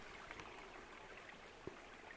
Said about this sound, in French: Un petit ruisseau qui coule à travers le bois